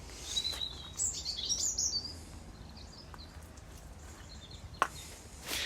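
Sparrows at a garden bird feeder give faint, high chirps in short bursts early on, then a few scattered tweets over quiet background rustle.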